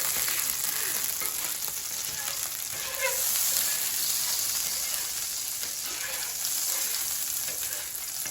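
Steady sizzling and crackling of butter on a hot griddle, continuous and close, with faint occasional scraping.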